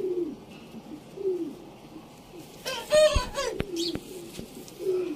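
Rampuri pigeons cooing in a pigeon loft in Sialkot, soft repeated low coos spread through the stretch, with a brief louder burst of flapping and clatter midway and faint chirps in the background.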